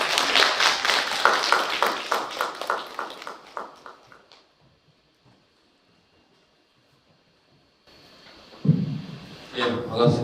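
Brief, lively clapping from a lecture audience swells and then dies away after a few seconds, followed by near silence before a voice begins to speak.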